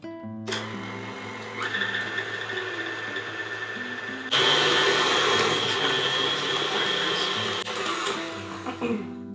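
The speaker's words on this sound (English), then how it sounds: "Then on medium-low, we're going to cream our butter until it's nice and fluffy." Stand mixer fitted with a paddle attachment creaming butter on medium-low, a steady motor whir that grows louder and stronger partway through and runs continuously.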